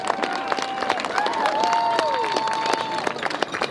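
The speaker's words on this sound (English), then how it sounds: "another round of applause for El Toro High School from Lake Forest," A crowd applauds and cheers a high school marching band at a championship event, a steady wash of clapping with a whistle-like tone rising over it and voices underneath.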